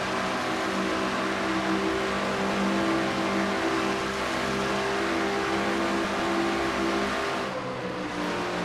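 A stock race car engine roars steadily on the Brickyard oval in a NASCAR-style racing video game, a dense, loud, sustained drone that holds its pitch through the turns and dips slightly near the end.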